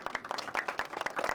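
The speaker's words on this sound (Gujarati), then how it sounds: "આમના માટે જોરદાર એક તાળી થઈ જાય." An audience claps in a quick, steady patter of hand claps at a home event, close and fairly loud with no voices over it.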